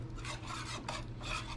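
Cheese gravy being mixed in a skillet, heard as a steady, close scraping and rubbing of a utensil across the pan with a faint sizzle beneath, short and continuous with no talking.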